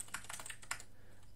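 Several quick keystrokes on a computer keyboard, faint and close, ending in a short burst of clicks.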